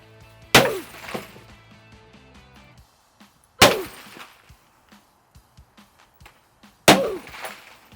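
Laminated glass in an Anlin window struck hard three times in a smash test, each blow a loud sharp crack with a brief rattling decay, separated by quiet pauses with faint handling noises.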